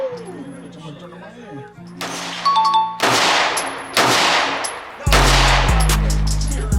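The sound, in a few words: gunshots from a gun at an outdoor range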